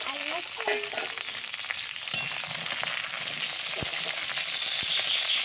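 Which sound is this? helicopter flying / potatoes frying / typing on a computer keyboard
potatoes frying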